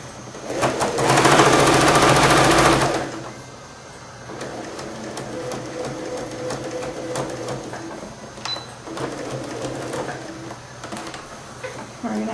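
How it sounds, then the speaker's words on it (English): A sewing machine zigzag-stitches along the edge of a baby blanket in one loud, rapid burst of about three seconds, followed by quieter handling sounds. "We're going to have to sew up the edge, and I think I'll do a zigzag just because it'll cover up the line better"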